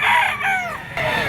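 A yellow-legged, straight-comb stag rooster crows loudly and close at an outdoor pet market, one strained call lasting about a second with no voices over it.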